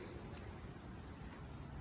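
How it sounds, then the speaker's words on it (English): Light rain sprinkling outdoors around a house, a steady soft patter of drops close by with no voices, continuous and even throughout. "it's just lightly sprinkling"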